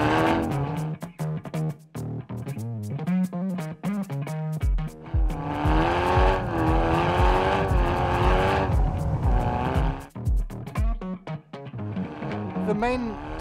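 A 2018 Hyundai i30 N hot hatch prototype at winter testing on snow, its engine revving loudly and continuously with rising and falling pitch and gear changes, close and steady throughout with brief dips.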